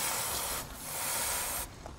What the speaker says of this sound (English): give the wheel a good spin, spray on another coat